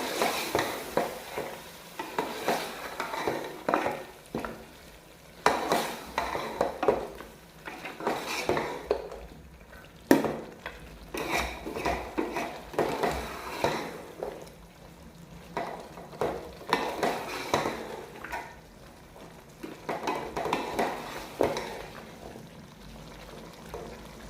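A spoon scrapes and clanks around a pot of beef and potato aloo gosht curry with yogurt, in repeated near stirring strokes over a soft bubbling simmer.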